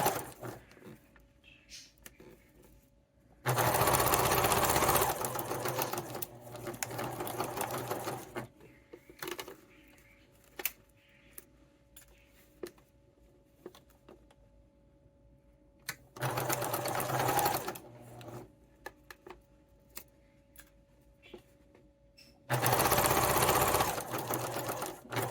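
A sewing machine stitches a mitered corner placemat in three loud, steady runs of rapid mechanical whirring, separated by quiet pauses with faint handling clicks.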